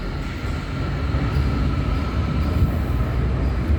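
Shenzhen Metro Line 8 subway train at a station platform, a steady close low rumble and rolling wheel noise with a faint high whine, continuous with no speech.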